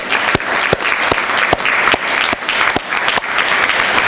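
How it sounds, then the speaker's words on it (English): Loud, steady applause from an audience at an 11q fundraising talk, a thick wash of clapping for about four seconds with a few sharp individual claps standing out near the front. "I want to thank Heather and give Heather a round of applause, please"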